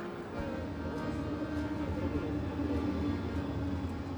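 Trams rumble steadily through Linz city centre in Austria, a continuous low rolling drone of wheels and motors with a faint metallic ring, close and unbroken throughout.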